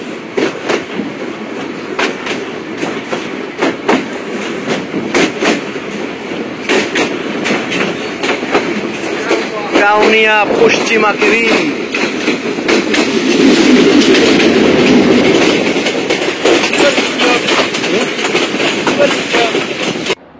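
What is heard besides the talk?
Rangpur Express intercity train running on rails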